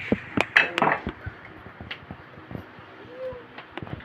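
Cheesy macaroni fruit salad being mixed in a bowl, a utensil clinking and scraping against the dish in a few sharp knocks followed by softer stirring, with someone speaking at times.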